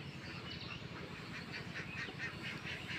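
Ducks in a shed on a duck farm quack and honk in a continuous, rhythmic chorus, faint and somewhat distant under a steady background noise, with no speech.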